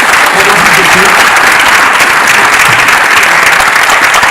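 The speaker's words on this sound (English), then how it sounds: "I think Shashi Tharoor deserves a huge hand round of" Loud, sustained applause from a large audience at a book discussion event, a dense continuous wash of clapping that fills the whole stretch without pause.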